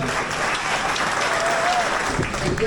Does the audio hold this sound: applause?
yes